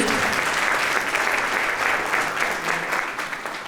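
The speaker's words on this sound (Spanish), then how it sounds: "Así que les daremos un fuerte aplauso a ellos más." Steady, full applause from a church congregation fills the room for a few seconds, many hands clapping together at close range, loud and even, fading slightly toward the end.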